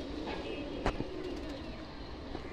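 A soft, low coo from a Teddy Golden Kamghar pigeon sits faintly beneath steady background noise, with a brief sharper sound partway through.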